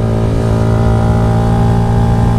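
Rouser NS125 motorcycle engine labouring up a steep climb, a loud, close, steady droning growl with strong low harmonics, held continuously without a break.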